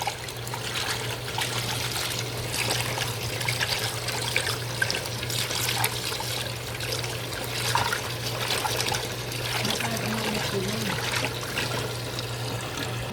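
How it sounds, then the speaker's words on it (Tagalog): Running water trickles and splashes steadily in close range as fish are washed and soaked, a continuous liquid stream over a low steady hum, with no talk. "hugasan na natin siya. Hugasa, ibabad mo ng ibabad sa tubig yan."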